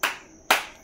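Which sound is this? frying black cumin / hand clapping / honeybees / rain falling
hand clapping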